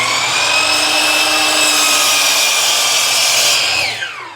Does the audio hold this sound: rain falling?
no